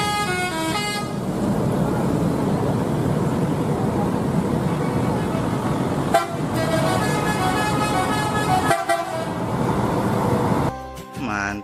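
A bus driving past with repeated loud honks from its horn over a rumbling engine, with a brief break midway and another honk burst near the end.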